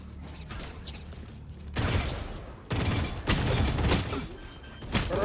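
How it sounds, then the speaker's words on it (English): A flashbang detonates in a Valorant esports match, with loud bursts and mechanical clatter breaking in twice over steady game ambience, no talking. "Flashbang."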